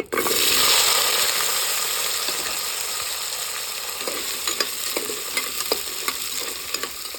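Onion, cardamom, cinnamon and cloves fry in hot oil for a Kerala mutton kurma. A loud burst of sizzling at the start settles into a steady crackle with scattered sharp pops and stirring clicks. No one speaks.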